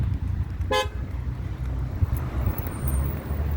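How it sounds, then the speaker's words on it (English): A single short car horn toot sounds over steady road and engine rumble, close and fairly loud. "my horn's gonna be loud for a little car. Beep, beep."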